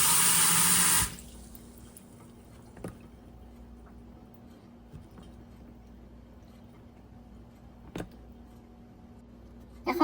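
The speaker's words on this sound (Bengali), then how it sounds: "এখন সিঙ্গর পানি দিয়া বালা করি ওয়াশ করে লাইমু, যাতে ভিনেগারের গন্ধটা পুরাপুরি যায় গিয়া।" Tap water runs in a kitchen sink as cheesecloth is rinsed to wash out a vinegar smell. A loud rush of water lasts about a second at the start, then near silence with a few faint clicks.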